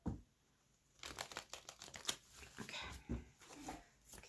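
Tarot cards are shuffled by hand in a quiet room, soft close riffling and papery crinkling starting after a brief pause and continuing in uneven bursts.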